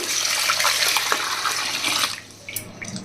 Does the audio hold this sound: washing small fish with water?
yes